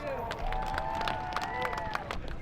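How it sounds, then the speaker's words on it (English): A crowd at a drift event applauds, with scattered claps and a few whoops over crowd murmur. A tonal hum runs beneath, and the sound is fairly distant and soft. "everybody, give him a round of applause"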